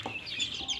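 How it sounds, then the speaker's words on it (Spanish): Young chicks indoors give quick high peeps and soft clucks in a short, faint burst of overlapping calls. "Aquí en la parte de adentro de mi casa todavía tengo pollitos chicos,"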